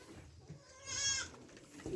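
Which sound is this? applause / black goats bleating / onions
black goats bleating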